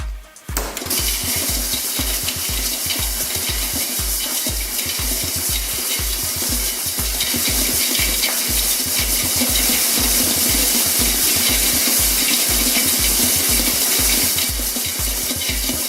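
Chocolate syrup, melted chocolate and butter get worked into rocky road dry ingredients, a steady rhythmic churning with regular low thumps under a continuous rough, wet scraping noise.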